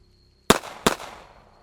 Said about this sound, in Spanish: Alcancé a percutar 2 tiros directo al cuerpo